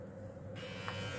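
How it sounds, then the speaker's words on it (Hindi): A Mi beard trimmer switches on and buzzes with a steady electric hum, close and continuous, the motor tone growing brighter partway through. "पहले ऑन कर लेता हूँ इसको"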